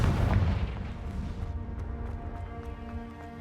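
A Confringo fire spell blast in Hogwarts Legacy: one loud, booming burst at the start that rolls into a rumbling, crackling tail, with scattered faint clicks and ticks from the game.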